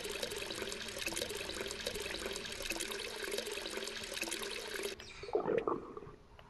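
Water pouring steadily in the video game Hello Neighbor, a continuous rushing splash that cuts off abruptly, followed by a brief gurgling slosh.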